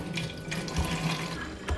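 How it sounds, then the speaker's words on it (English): Homemade Jamaican sorrel drink pours steadily from a pitcher into a container, a short, close, continuous splashing trickle of liquid with no talking. "I got my trusty little pour so I can pour it in"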